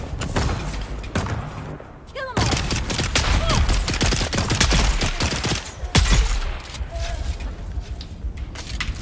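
Turret gunfire in the Dune Awakening video game, a dense fusillade of rapid shots that carries on through most of the stretch, loud and close, with a few heavy thuds mixed in.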